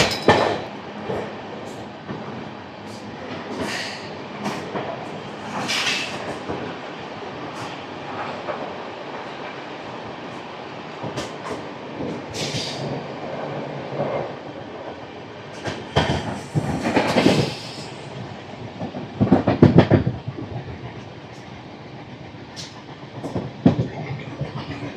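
Duronto Express 12213 runs through Raichur Junction, a sustained rolling rumble with repeated clickety-clack bursts and louder surges as points and platforms pass.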